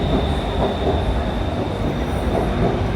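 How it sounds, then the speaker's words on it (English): A BTS Skytrain in Bangkok runs past at close range, a loud steady roar of wheels and motor with a thin whine held on top. Nobody speaks. "I'm gonna take this train back home"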